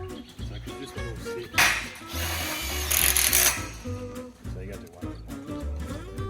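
A power drill drives short 20mm tech screws into a polytunnel frame in brief whirring bursts. The bursts sound close, with people chatting around them.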